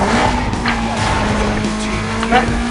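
A car drifting in Need for Speed Most Wanted, a loud sustained tire squeal and skid over the engine roar, continuous for nearly three seconds, with a voice talking over it.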